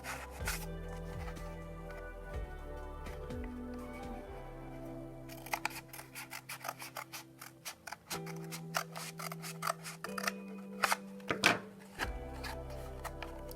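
Scissors or a blade cutting through a cardboard tube, heard as a run of sharp snips and crunching cuts of varying loudness over steady background music, with no talk.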